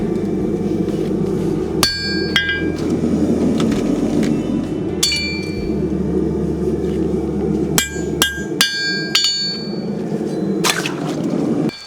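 A farrier strikes a hot horseshoe with a hammer and punch on an anvil. Sharp, ringing metallic clangs come in irregular bursts and quick doubles, close and loud over a low background hum.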